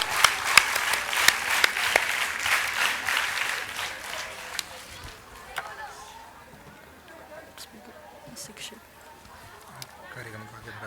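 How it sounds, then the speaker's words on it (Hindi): An audience at a school annual cultural function in Haridwar bursts into dense, loud applause that carries on for several seconds, then thins and fades away into quiet room noise with scattered claps. "एक बार जोरदार तालियां से उत्साहवर्धन करिए।"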